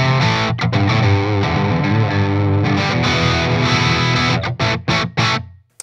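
Les Paul-style electric guitar running through Green Beret and Retro 30 amps at once, producing a thick, loud distorted tone: sustained chords and riffs that break into several sharp staccato stabs before a final cutoff.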